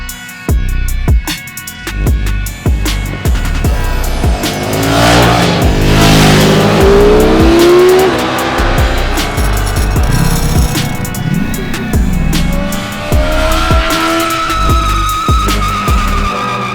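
Super naked sports motorcycles ridden hard in France, engines revving loud and close with rising and falling pitch sweeps, sharp gear changes and bursts of acceleration over about seventeen seconds.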